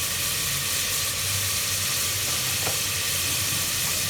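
Onions and turmeric fry in oil for mutton karahi, a dense, loud, continuous sizzle with faint stirring, close up and with no voices.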